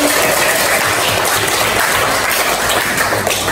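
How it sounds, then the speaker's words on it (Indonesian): Students in a classroom applaud together, a steady dense clapping that fills the whole moment at close range without any talk. "Oke, tepuk tangan untuk kalian."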